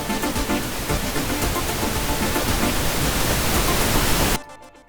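A pink noise test signal in a recording studio, a loud, steady broadband hiss that holds at a constant level, then cuts off abruptly near the end, leaving a faint tail.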